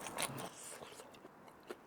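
Smoked pork belly crackles under a bite, giving a few faint, close crunches and crisp snaps scattered over about two seconds with no talking.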